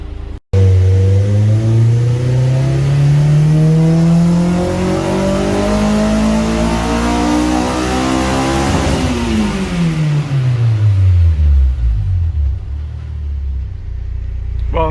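A Honda S2000 engine on a dyno revs loudly and steadily climbing in pitch through VTEC to a high-rpm wail, then drops back down as the throttle closes, close and alone.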